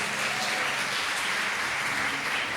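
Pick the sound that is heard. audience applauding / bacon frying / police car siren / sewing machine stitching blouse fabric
audience applauding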